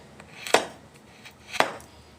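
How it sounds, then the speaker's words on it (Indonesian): A knife chops a small amount of food on a board in two separate, crisp strikes about a second apart, close and fairly quiet, with no voices. "cuma aku cincang aja"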